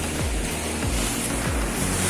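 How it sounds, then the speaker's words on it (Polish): Out at sea off Cyprus, loud wind buffets the microphone while waves surge and wash continuously, with rhythmic swells rolling through the steady roar. "bo jestem po środku morza"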